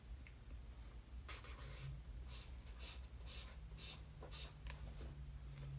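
A fat-nib Colorya pastel art marker drags across paper in a steady series of soft, close scratchy strokes, faint and without talk.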